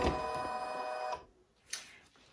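A home embroidery machine stitches a face mask design, a loud steady mechanical whir with tonal hum running about a second, then stopping, followed by a brief click or handling sound.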